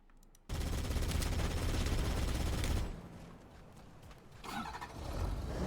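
Gunfire in the Halo Campaign Evolved video game: a loud, dense burst of rapid automatic fire for a couple of seconds, then quieter rumbling and scattered shots with a brief swell near the end.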